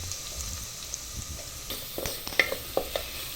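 Ginger-garlic paste with cinnamon, cloves and cardamom dropped into hot oil in a clay pot, sizzling softly with a few sharp spits and pops toward the end.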